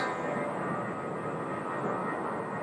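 A Spirit Airlines airliner bound for Detroit arrives at Phoenix, its steady, broad engine roar holding evenly loud throughout with no voices over it.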